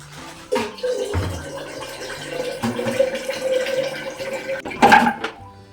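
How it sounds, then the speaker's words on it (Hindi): Water splashes and gurgles into a container that had held raw milk, in uneven bursts, close by, with clinks and handling noises around it. "थोड़ा और पानी डाल देते हैं इसमें।"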